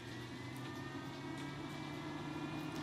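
A steady low whirring hum of an RV roof vent fan on its low setting, constant and fairly quiet, with no voices.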